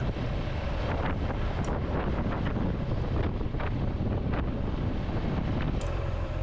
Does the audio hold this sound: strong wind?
yes